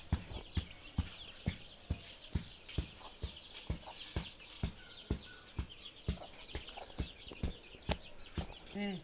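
Chickens and young chicks kept inside a mosquito net cluck and cheep close by, over a steady run of sharp, regular tapping or pecking knocks.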